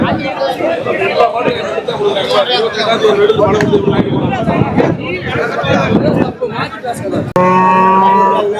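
Cattle at a Kundadam livestock market with Kangeyam breed animals moo near and loud over a busy crowd of chattering people, then one long clear moo rings out at the end.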